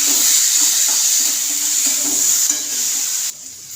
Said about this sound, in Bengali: তো আলুর সাথে মশলাটা ভালোভাবে কষিয়ে নেওয়া হয়েছে।